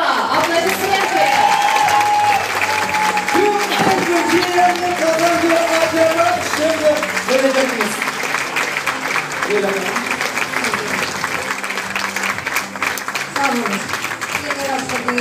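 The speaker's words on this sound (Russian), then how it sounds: "Аплодисменты!" Crowd applause at the finale of a radio show stage event, continuous loud clapping heard beneath a presenter's amplified voice and music throughout.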